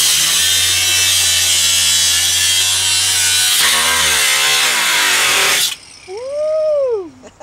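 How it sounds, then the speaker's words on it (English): A jackhammer roars loudly and steadily for several seconds, then cuts off, leaving a brief rising and falling whine at the end. "Next, you're going to use a jackhammer."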